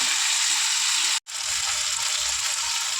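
Japanese puti fish curry with ridge gourd and green chilies being sautéed gives a steady, loud, close frying sizzle, broken by one brief total silence partway through, with no talking.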